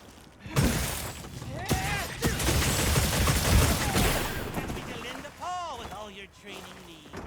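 A rapid series of sharp, metallic blasts and shattering impacts from gunlance burst fire in Monster Hunter Wilds, with clanging tones ringing out between hits.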